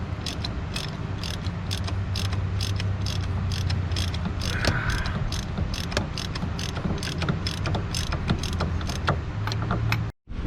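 Ratchet wrench with a 1 1/16 inch socket spinning off the fuel filter top on a Ram: rapid, steady clicking that runs continuously at close range, with no talk, cutting off abruptly at the end.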